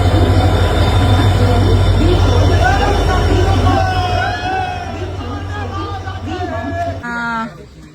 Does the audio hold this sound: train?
yes